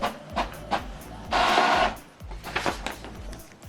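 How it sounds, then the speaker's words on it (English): An Epson wireless printer printing a test page gives several short mechanical clicks and clunks, then a loud whirring feed for about half a second, followed by more rattling movements, close by in a quiet room. "It's printing the test page."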